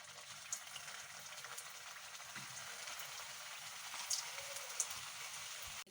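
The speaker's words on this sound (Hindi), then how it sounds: "लो टू मीडियम फ्लेम पे हम इनको फ्राई करेंगे।" Cutlets frying in hot oil over a low-medium flame give a steady, fine crackle and sizzle throughout, fairly soft, with a few brighter pops near the end and no talking.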